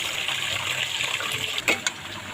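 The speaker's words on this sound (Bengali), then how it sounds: "এখন মুগ ডালটা ভালো করে ধুয়ে নেব" Mung dal is rinsed in water for a bhuna khichuri offering, with a steady rush of running water and a couple of brief splashes near the end.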